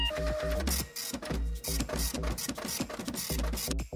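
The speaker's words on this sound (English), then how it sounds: "Printer, get to work." A home printer runs through a photo print job, its feed mechanism chugging in loud, regular mechanical bursts with short pauses between passes.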